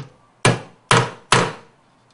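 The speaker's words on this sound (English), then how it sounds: "we're going to take our hammer and our center punch and we'll go ahead and mark our hole locations" Three sharp metallic hammer blows strike a center punch in quick succession, each a loud ringing clank fading quickly, close up with no talk.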